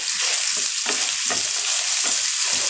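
Onion frying for a tempering to go over a kebab mixture, a loud constant hiss of hot oil with rhythmic scraping strokes from a stirring spoon, close up and without speech.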